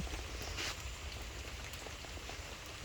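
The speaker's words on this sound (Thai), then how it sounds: "มื้อนี้ฝนตก เป็นมือแรกค่ะ" Rain pattering at an artificial stone waterfall at an elephant camp on Koh Phangan, a soft, even wash of drops and flowing water heard faintly and continuously with no voices.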